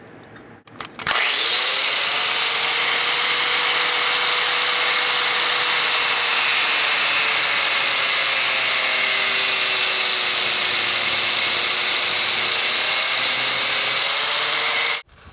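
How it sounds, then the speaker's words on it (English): An angle grinder with a cutoff wheel cuts through braided hose line for a dune buggy fuel system. It gives a loud, steady, high whine that starts abruptly, holds for about thirteen seconds, then cuts off. "get your grinder with a cutoff wheel."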